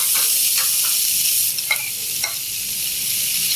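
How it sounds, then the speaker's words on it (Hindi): Onion and bell pepper fry lightly in a little ghee, a bright steady sizzle with a few soft stirring clicks, settling quieter after the first seconds. "हम उसी घी में इसको हल्का सा फ्राई करेंगे"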